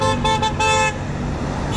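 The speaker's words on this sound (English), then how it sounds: "There's so many honks." Car horns honk steadily and loudly at a roadside protest, several blasts overlapping in a sustained chorus with passing traffic rumbling underneath.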